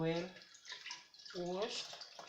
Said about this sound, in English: especially if you have a running water, make sure it is well